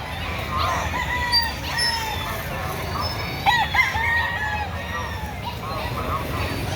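Roosters crow and chickens cluck across a noisy Saturday chicken market yard in Lipa City, Batangas, several birds at varying distances over a constant low background hum.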